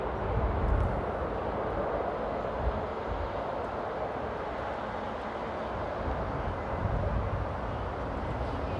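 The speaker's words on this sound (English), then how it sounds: "there's the A380 going to runway 24 for takeoff" An Airbus A380 airliner taxis toward runway 24 for takeoff at Amsterdam Airport in stormy weather, heard as a steady, distant broadband engine roar mixed with wind, without distinct peaks.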